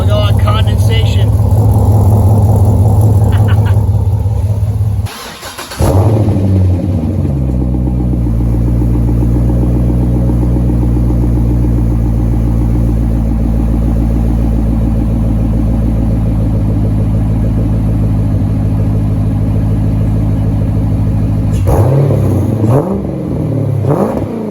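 Corvette engine with new long tube headers idling close and loud, a deep steady rumble with a brief rev near the start and another toward the end.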